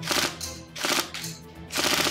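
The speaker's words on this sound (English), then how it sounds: "with the new Marui MP5 NGRS and we'll go straight into burst mode" A Tokyo Marui MP5 NGRS airsoft gun firing in burst mode: three loud, close, rapid bursts of mechanical rattling clatter, each lasting about half a second, separated by short gaps.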